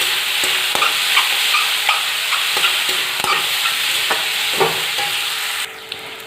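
Vegetables with turmeric frying in a pan: a loud, close sizzle carries on throughout, punctuated by frequent spatula taps and scrapes in an uneven rhythm, and drops slightly toward the end.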